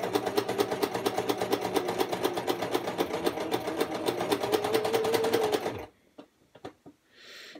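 A sewing machine runs steadily for about six seconds, stitching a dart into fabric with a fast, even needle rhythm, then stops, leaving a few faint handling clicks and small knocks.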